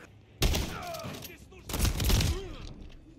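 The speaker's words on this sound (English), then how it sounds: "The M32 rotary grenade launcher." An M32 rotary grenade launcher fires in Call of Duty: Modern Warfare III with two sharp, heavy bursts, each trailing into rumbling echoes and mechanical clatter, with faint voices in the background.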